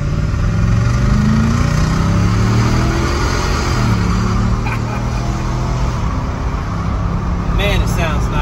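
A 2023 Nissan Titan Pro-4X pickup's 5.4 V8 engine revs and accelerates with a deep, rising growl, loud and close throughout, as people talk over it.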